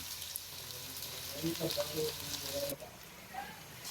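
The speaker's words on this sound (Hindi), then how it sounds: "ऑयल हमारा गर्म होता है तो फिर मैं डालती हूँ प्याज। लो मैं डालती हूँ अब प्याज।" Onions dropped into hot oil in a pot while pulao is made, producing a soft crackling sizzle, with a voice speaking faintly in the background.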